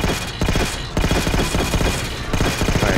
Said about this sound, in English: Well, I guess this is an assault rifle